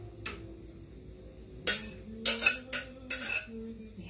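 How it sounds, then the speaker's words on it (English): A spoon stirs tomatoes into amatriciana sauce in a pan, giving several sharp metallic clinks and scrapes against the pan in irregular bursts over a quiet background. "we're going to add the tomatoes and give it a good stir"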